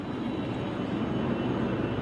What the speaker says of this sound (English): Wait till the helicopter passes.